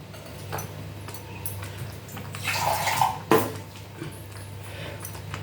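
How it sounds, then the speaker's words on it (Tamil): Water poured into a simmering beetroot curry in a home kitchen, a soft splashing pour building for about a second and ending in a brief sharp splash, over a low steady background hum. "கொஞ்சம் தண்ணி விட்டுப்போம்."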